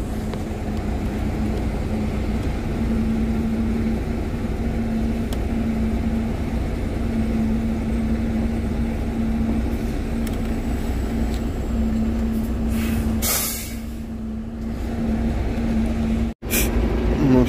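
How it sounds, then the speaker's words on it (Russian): Truck reversing with the engine running and a compressor going while unloading, a steady low droning hum throughout with a brief burst of louder noise and a sharp click near the end. "я назад сдаю."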